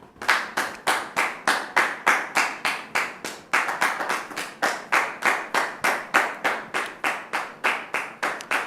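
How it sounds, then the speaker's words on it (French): Steady rhythmic clapping from a church congregation welcoming a sister to the front, loud and close with even, evenly spaced claps throughout and no talking. "Merci de recevoir notre sœur sous vos applaudissements, s'il vous plaît."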